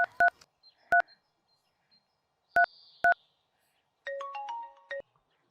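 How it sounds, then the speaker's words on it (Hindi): Telephone keypad tones beep in short separated pairs as a number is dialed, then a warbling ringback tone sounds on the line, clear and alone in silence. "हाँ, तुम फोन लगाओ उन्हें।"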